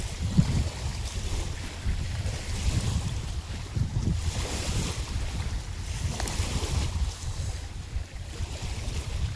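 Strong sea waves crash on the shore with heavy, gusting wind buffeting the microphone, a loud continuous roar with rolling surges and no voices.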